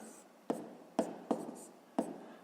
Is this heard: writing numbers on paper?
yes